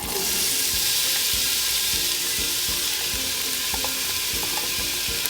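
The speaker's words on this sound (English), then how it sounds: "I'm going to add about 2 tablespoons of olive oil to this hot pot in order to start pan searing the onions" Onions searing and sizzling in hot olive oil in a pot, a steady loud frying hiss running throughout with repeated rhythmic scraping stirs.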